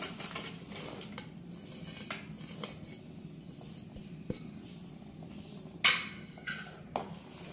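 Chopped chocolate being stirred into hot chocolate in a pan, with scattered scraping and clinking of a utensil against the pan over a low background hum, one sharper clank near the end.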